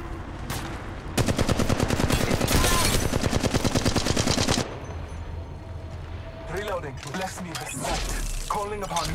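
Rapid automatic gunfire in the mobile shooter Apex Legends Mobile rattles out in one long, loud, close burst, then gives way to quieter game effects and scattered clatter.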